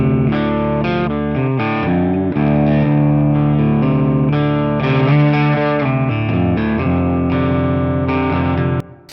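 A looped electric guitar phrase plays through a room reverb set to half mix, its distorted chords ringing into a wash of ambient tail before cutting off abruptly at the end.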